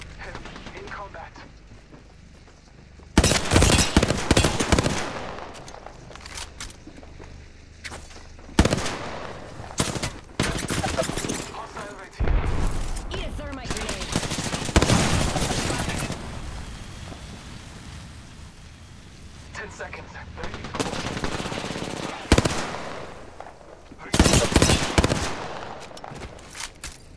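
Automatic and single gunfire in Apex Legends, loud bursts of rapid shots breaking out repeatedly over nearly half a minute, with sharp cracks, sustained volleys and quieter gaps between exchanges.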